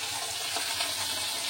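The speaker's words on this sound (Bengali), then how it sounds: "মাছটা ধুচ্ছিলাম" Tap water running steadily while hilsa fish is washed in a kitchen, a continuous close splashing flow with no talking.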